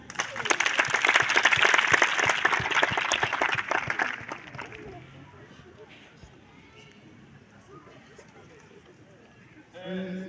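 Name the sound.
applause welcoming an honoured guest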